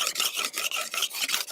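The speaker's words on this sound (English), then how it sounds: "Li Guilin is carefully sharpening his sickle." A sickle blade sharpened by hand for the sorghum harvest, close rhythmic rasping strokes, about eight quick back-and-forth passes in a steady beat, no voices.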